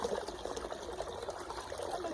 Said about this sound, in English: I'm going to catch the running water